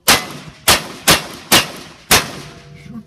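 Five sharp pistol shots at a cowboy action shooting match, fired in quick succession about half a second apart, each loud crack ringing out briefly before the next.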